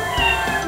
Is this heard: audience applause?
no